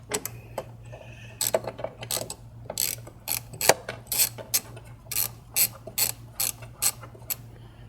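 A ratchet backs out a 10 mm bolt at the rear mount during a cold air intake install on a VW 2.0T TSI, giving rapid, rhythmic pawl clicks in close, uneven bursts with no talking.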